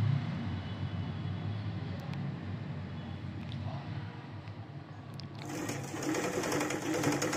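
A sewing machine runs steadily, close by, stitching cloth for an alteration to a baby's langha skirt, with a brief change in pace and a brighter, faster whir toward the end.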